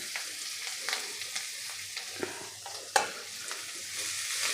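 Chopped coriander is stirred and fried in a pan for kothimbiricha chatka, a soft continuous sizzle with intermittent scrapes and taps of the spatula, one sharper knock near the middle.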